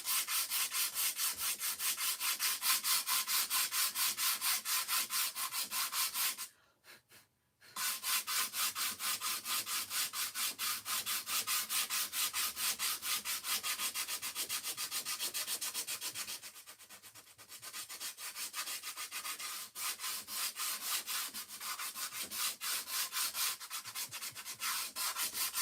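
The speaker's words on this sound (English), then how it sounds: "I'm toying with the idea of sanding it just a little bit." Sandpaper rubbing back and forth over a wooden craft piece to smooth it before stenciling, a steady close rasping rhythm that stops briefly and resumes, continuing alone without talk.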